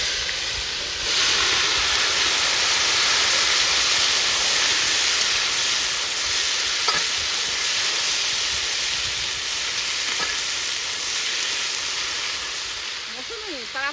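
Banana flower and potatoes sizzling in spice-tempered oil, a steady loud broadband hiss that holds for most of the stretch, with a few faint clinks and no speech over it.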